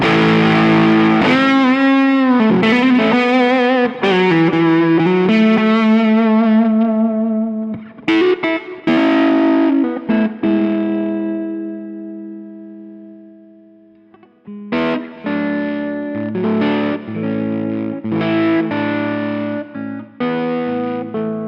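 Electric guitar played through an Echopark Echodriver pedal set for rock and roll amp overdrive, ringing out gritty distorted chords and single notes, with a long sustained decay into near silence before a fresh burst of strummed phrases.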